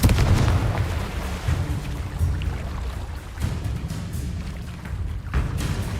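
Bombarda and Confringo spell explosions in the Hogwarts Legacy video game, a dense stream of booming blasts and crackling bursts layered over continuous rumbling battle noise, several sharp impacts standing out.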